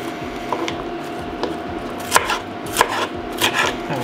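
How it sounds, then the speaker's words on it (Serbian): Two kilograms of washed, seeded peppers are diced on a cutting board, a string of crisp knife chops that speed up into quicker clustered strikes, close and clear. "2 kg opranih paprika očistiti od semena i iseći na kockice"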